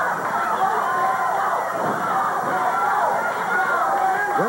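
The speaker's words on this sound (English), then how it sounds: "Crowd really getting on him." Wrestling arena crowd at a 1986 Memphis show jeering a wrestler, a steady dense roar of voices with shouts rising and falling, loud and continuous throughout.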